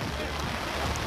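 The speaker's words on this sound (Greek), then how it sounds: "Υποκαταρακτώδη βροχή όλο το δεύτερο ημίχρονο του τελικού." Torrential rain falls over an outdoor U16/U14 youth football final as a constant, even hiss that fills the background without any break.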